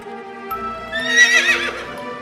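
Cartoon horses whinny loudly with a rising, quavering neigh while hooves clip-clop in steady bursts beneath, close and clear with no talking.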